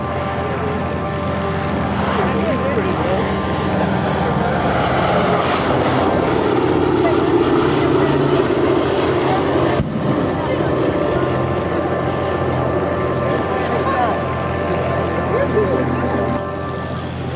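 A vintage warplane flies at an air show, its steady propeller-engine drone loud and continuous throughout, with people talking over it.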